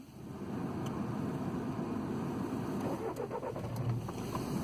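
A car's engine cranks and catches, then settles into a steady idle, fairly close and alone with no voices, a broadband rumble holding throughout.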